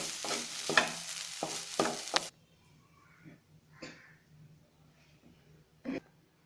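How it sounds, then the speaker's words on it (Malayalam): Broccoli thoran with ground coconut paste is stirred in a pan over high flame. There are a couple of seconds of sizzling and scraping, then quieter scattered clinks and stirs. "അരപ്പും ചേർത്ത് 2-3 മിനിറ്റ് ഹൈ ഫ്ലെയിമിൽ വെച്ച് നന്നായിട്ട് ഇളക്കിയെടുക്കണം."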